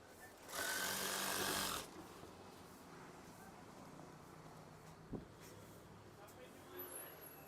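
A sewing machine runs in a short loud burst of stitching on curtain swag fabric, followed by quieter room sound with a brief knock.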